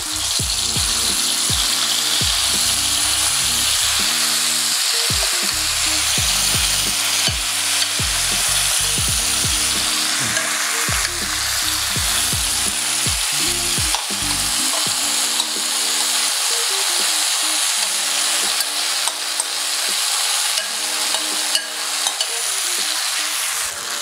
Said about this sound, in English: You can see that this wok from Radiance is very hot. And we are going to pop in all of the paste in there.